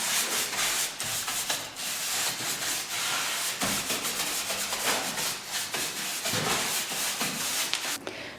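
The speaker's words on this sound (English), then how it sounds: "we're just using a brush to get rid of any of the debris" A brush sweeps sanding dust off a wooden table, a continuous close scratchy rubbing with repeated strokes that swell and fade.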